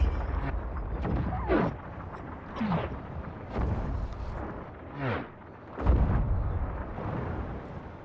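Cannons fire in a video game, several booming blasts spaced a second or two apart amid rumbling battle noise, at moderate level.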